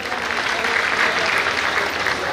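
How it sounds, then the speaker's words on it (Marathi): Audience applause fills a religious gathering for the Chakradhar Swami avatar-day festival at Khedi Khedgaon, a steady, dense clapping from a crowd that holds at even loudness throughout. "आपण सर्वप्रथम देवेंद्र फडणवीस यांना आपल्या टाळ्या वाजवून एक अनुमोदन देऊया."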